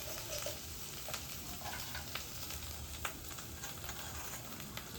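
Ground onion paste frying with whole spices in a pan for an egg korma, giving a faint continuous sizzle with light stirring clicks, heard close and quiet with no talk.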